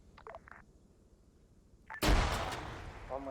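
Frag grenade blast in a military shooter game: after faint radio chatter, a sudden loud, broadband explosion erupts around two seconds in and rumbles on with a long, crackling decay.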